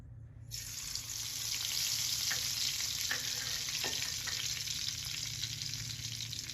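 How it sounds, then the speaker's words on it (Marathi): Cumin and mustard seeds crackle and sizzle in hot oil, a loud steady frying hiss with scattered sharp pops. "जिरी मोहरी तडतडली की"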